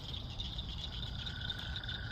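A small Woodhouse's toad calls outdoors at night, a steady buzzing trill held for the whole stretch, with insects and background chorus underneath, moderately close.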